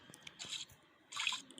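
Water drips and splashes faintly in the horror video game Granny, two short bursts of wet trickling separated by near-silence, quiet and close.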